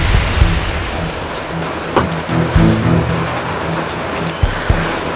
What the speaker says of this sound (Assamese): বানপানী আপোনালোকে চাই আছে।